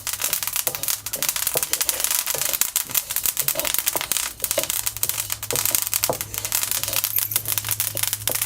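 Flax seeds roast in a pan, giving a dense, steady crackle of tiny pops and rustles up close, continuous and fairly loud with no talk over it.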